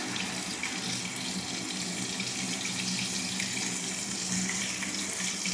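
Coconut milk is poured into a pan for ginataang papaya, a steady close gushing splash of liquid that continues evenly without pause.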